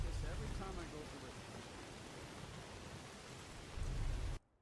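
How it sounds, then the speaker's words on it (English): Rain falling in Skyrim, a steady hiss of heavy rainfall with low rumbling beneath, constant throughout and cutting off abruptly at the end, with a voice briefly over it. "I swear it rains like this every time I go to"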